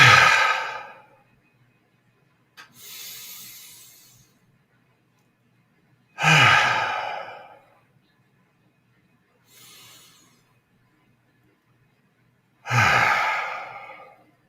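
Three deep breaths during a guided meditation, each a slow audible inhale followed by a long, breathy sighing exhale, spaced evenly with quiet pauses between them.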